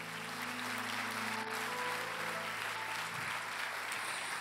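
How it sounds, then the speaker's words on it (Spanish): Church congregation applause during a Sunday morning service, a continuous fairly faint wash of clapping with a steady hum underneath. "Dale un aplauso a Dios."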